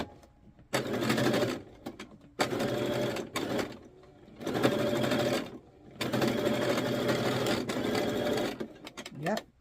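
A sewing machine stitches a sweetheart dress in loud, close bursts of whirring, running about a second or two at a time with short gaps between them.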